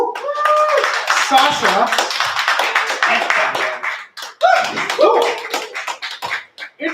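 A small open-mic crowd claps and cheers for the slam poets at a poetry slam qualifier, with loud, close, uneven clapping, a voice calling out over it, and a short dip midway.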